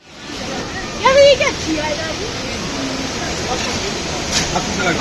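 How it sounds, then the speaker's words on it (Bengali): A main waterfall in Sikkim roars just ahead, a loud, steady broadband rush of falling water filling the whole stretch, with people's voices briefly rising over it. "মেন ফলসটা হচ্ছে আমার ঠিক সামনেই।"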